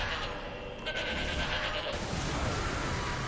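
A goat bleats in the horror action video game Shadows of the Damned, a drawn-out tremulous cry blended into dense, continuous game ambience with no talking.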